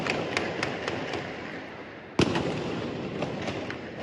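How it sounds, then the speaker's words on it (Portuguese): Gunfire rings out during an armed bank robbery at a Banco do Brasil branch in Criciúma, with scattered distant pops and one loud sharp crack midway over a rumbling night background. "Houve troca de tiros e momentos de terror para a população."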